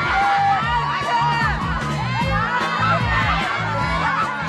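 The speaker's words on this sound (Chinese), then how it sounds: "看到小庞，他们这群中学生不断的欢呼" A group of high school students posing for a class photo by the coast cheers and shouts excitedly, overlapping whoops, laughter and high voices close by in a lively, continuous burst.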